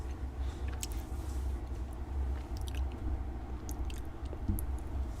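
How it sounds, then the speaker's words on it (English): Someone eats while on a livestream, chewing food close to the microphone in a steady, moist, squishy rhythm with occasional crunchy bites, and no talking. "Why am I chewing in every live?"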